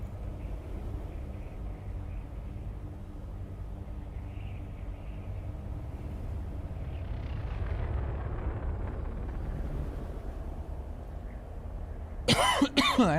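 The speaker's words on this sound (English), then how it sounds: "Damn, I put a nice big cough on the end of that." A person coughs in short, sharp bursts near the end, loud and close, following a long stretch of quiet low rumble and hum from the Elite Dangerous space game.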